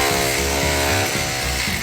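A power drill bores holes into brick at a worksite, a loud steady grinding whine with pulsing low rumble throughout, close and continuous, no voices.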